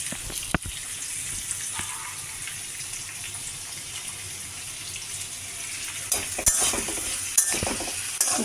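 Thinly sliced potato and jackfruit seeds fry in oil in a home kitchen, a steady hiss with a few sharper clatters of stirring toward the end, close and moderately loud with no talking.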